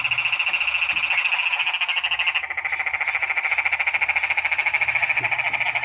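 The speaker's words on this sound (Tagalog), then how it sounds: "Nasilabasan na yung palaka." A dense chorus of frogs croaking continuously in rapid, pulsing trills, loud and steady throughout with no voices.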